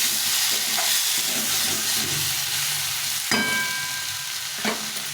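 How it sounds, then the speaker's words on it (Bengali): Spice paste with tomato sautéing for fish curry, a loud continuous sizzle with stirring scrapes and a couple of sharper clinks of a utensil against the pan. "সেই টমেটোটা দিয়ে দিলাম টমেটো দিয়ে আবার কষিয়ে নিয়ে ভালো করেছি"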